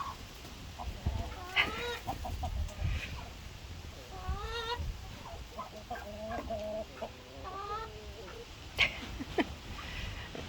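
Backyard chickens cluck and squawk close by while pecking at a pumpkin, with turkeys nearby; the calls come in irregular bursts over light outdoor background noise, with no talking.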